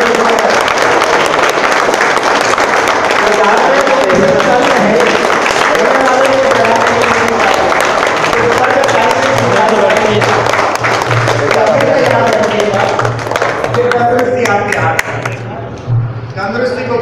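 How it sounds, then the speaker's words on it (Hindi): An audience at an indoor talk claps at length, a dense crackle of many hands that thins and fades toward the end, with a voice speaking over it. "बीच बीच में तालियां बजाते"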